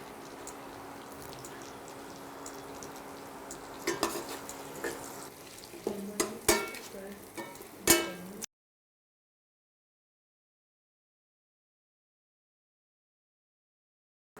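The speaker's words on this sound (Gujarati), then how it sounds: "આ બટેટા સંતળાઈ ગયા છે" Potatoes sauté in a pan with a soft, steady sizzle, broken by scraping and clinking stirring strokes that grow sharper toward the end, then the sound cuts off into silence.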